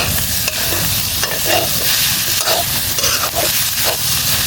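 Pre-cut potatoes stirred in hot oil and masala while cooking a spicy pork curry, with loud, steady sizzling and scraping stir strokes close to the mic and no talking.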